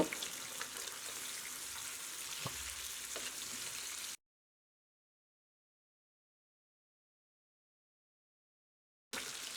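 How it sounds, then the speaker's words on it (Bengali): Pabda fish frying in hot oil makes a soft, steady sizzle with a few small pops, then drops into silence before the sizzle briefly returns. "মাছটা এখন আমি একটু ভালো করে ভেজে নেব"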